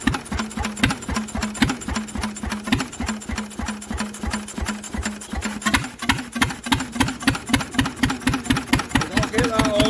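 An old Lister engine, started for the first time in 40 years, chugs and idles unevenly with a steady, loud knocking beat and a mechanical rattle, its rhythm shifting slightly partway through.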